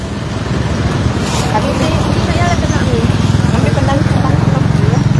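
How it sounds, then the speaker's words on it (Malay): Heavy traffic fills a road beside a busy Miri market before Hari Raya, with a constant rumble of engines and motorcycles close by while people talk throughout. "Kereta banyak masuk."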